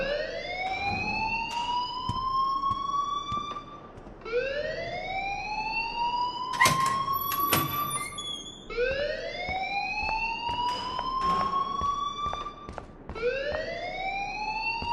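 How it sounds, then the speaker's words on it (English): In the video game Life is Strange, a fire alarm wails in repeated rising sweeps, loud and continuous, with scattered clatter and thuds beneath it. "please turn off that alarm since that's your job"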